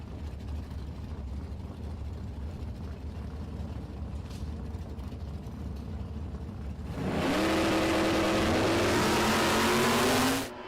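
Drag racing car, a Ford Telstar fitted with a 427 Ford engine, launches loudly at a Sydney dragstrip midway through, its engine note climbing steeply through the gears above a steady crowd-and-track rumble.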